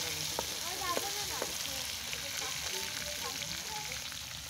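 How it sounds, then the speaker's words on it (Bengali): Hilsa fish frying in mustard oil in a pan, giving a continuous soft sizzle with faint crackles and occasional stirring clinks, heard alone at moderate volume. "আমরা কিন্তু ইলিশ মাছটা সরিষার তেল দিয়ে ভাজছি, ফ্রাই করছি"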